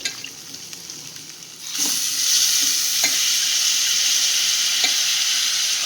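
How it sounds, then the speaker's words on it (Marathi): Rice stirred and fried in a hot pan for corn biryani, starting with quiet scraping before a loud, steady sizzle swells up and continues with occasional spoon knocks. "तांदूळ टाकल्यावर आपण चांगलं परतून घेऊ."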